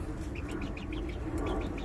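A laying hen on a farm lets out a run of short, repeated clucks at close range over a low background hum, with no voices.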